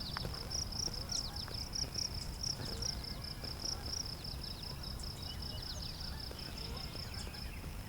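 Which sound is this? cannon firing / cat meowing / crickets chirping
crickets chirping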